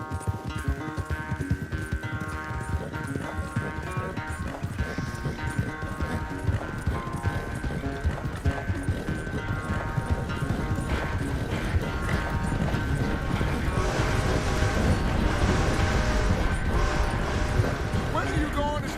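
Rapid horse hoofbeats galloping in a Red Dead Redemption horse race, a fast steady clatter under game music and voices, growing louder toward the end.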